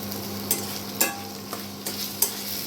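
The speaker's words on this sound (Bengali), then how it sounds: "বন্ধুরা কাঁচা লঙ্কা দিয়ে দিচ্ছি আমি দুটো।" Two green chillies go into a frying pan for an egg dish, a soft, close sizzle broken by a few light taps and stirring scrapes, with no one speaking.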